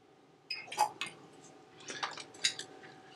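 A brush or small tool clicks and scrapes quietly against a palette while oil paint is mixed with enamel thinner for a rust wash, giving a few faint, close taps and light clinks.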